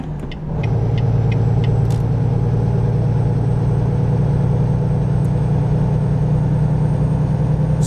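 Volvo truck engine in American Truck Simulator, a loud, steady diesel drone with a deep low rumble that swells up after a brief quieter moment and then holds at constant revs.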